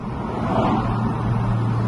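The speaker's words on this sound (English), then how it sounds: "Just love that throaty inline six as well." Steady low drone of a BMW Z4 E85 2.5Si's inline-six under way, a continuous engine and road rumble with no speech.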